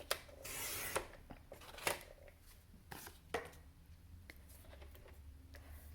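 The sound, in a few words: cutting the diamond card base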